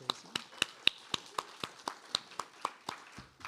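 Slow, evenly spaced claps, about fourteen distinct sharp hits in a steady rhythm, fairly faint and close, as a small audience applauds poet Tracy Fuad at a faculty presentation.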